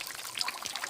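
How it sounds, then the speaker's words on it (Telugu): Water from a clear forest stream on the Saleshwaram Lingamaya trek trickles and splashes as it is collected, a close, steady burbling without any voices. "ఇంకా చూడండి గైస్, నేను వాటర్ తీసుకుంటున్నా"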